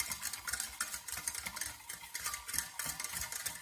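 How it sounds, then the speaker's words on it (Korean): A whisk or spoon stirs lemon juice, sugar and a pinch of salt in a bowl for a lemon tart, giving soft, quick, rhythmic scraping and light clinking, close and fairly quiet, with no talking. "살짝 한번 섞어줍니다."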